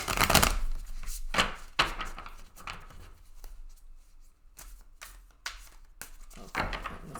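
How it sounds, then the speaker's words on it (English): Tarot cards being shuffled by hand in repeated riffling bursts, with crisp papery flutters and soft taps recurring every second or so, fairly close and with no talking. "I'm going to shuffle one more time in between."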